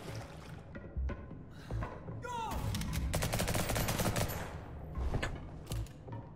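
A machine gun fires in the video game Liberated in a long, loud, rapid burst of shots through the middle, with scattered single reports before and after and a brief voice near the start.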